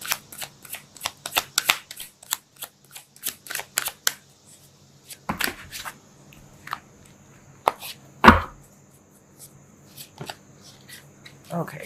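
A deck of tarot cards is shuffled by hand in a rapid series of crisp riffling and slapping bursts, close and clear, then slows to a few sharper taps and knocks. Quiet talk runs underneath.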